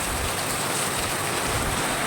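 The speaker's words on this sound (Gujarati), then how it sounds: "જુઓ ચાલુ થઈ ગયો છે અમારા ધોધમાર વરસાદ" A heavy afternoon downpour gives a dense, constant hiss and patter of rain close by. It is loud and unbroken throughout, with no voices.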